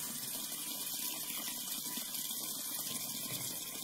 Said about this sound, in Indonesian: terdengar kembali suara air kran yang mengalir